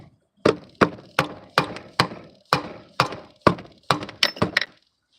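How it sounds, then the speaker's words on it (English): A rubber hammer strikes engine parts during a boosted VR6 engine rebuild, about a dozen sharp, evenly spaced knocks that bunch closer together toward the end. Each hit is close and crisp in a quiet space, with no talking. "It's not really a small hammer, I know, but it's a rubber hammer nonetheless."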